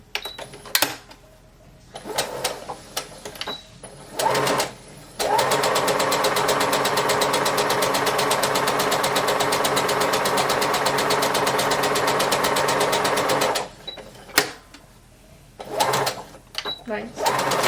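Sewing machine stitching a beginner holiday gift project at faster speed, a loud, steady, rapid whirring run of about eight seconds between bursts of clicking and handling, with talk before and after.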